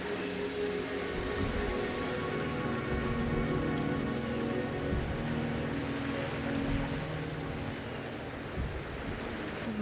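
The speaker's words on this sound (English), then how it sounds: "The rain is subsiding, and the sky will soon clear." Steady rain pours down in the video game Wuthering Waves, a dense, continuous hiss of falling drops with a low rumbling undertone, loud and unbroken throughout with no voices.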